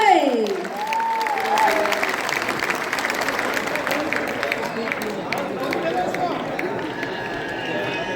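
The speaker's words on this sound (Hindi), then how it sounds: "जोरदार तालियां होनी चाहिए।" Audience applause at a Mumbai Jat Samaj 50th anniversary celebration, a steady, moderately loud patter of many hands that runs for several seconds after a voice fades out at the start.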